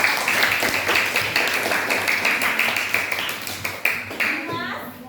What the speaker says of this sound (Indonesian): Iya, tepuk tangan teman.